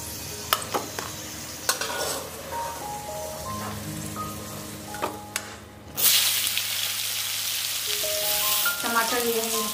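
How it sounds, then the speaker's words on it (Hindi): Potatoes frying in hot oil in a home kitchen: a few utensil clinks and scrapes, then a loud, steady close sizzle that swells after about six seconds and continues to the end. "आलू यहाँ पर फ्राई हो चुकी है, अब मैं आलू को निकाल लूंगी।"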